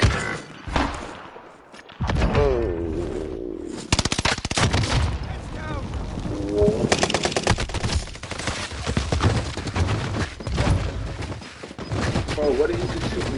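Bursts of rapid gunfire and heavy thumps in an online shooter game, loud and near, come in repeated volleys with brief gaps, while players talk over the shooting.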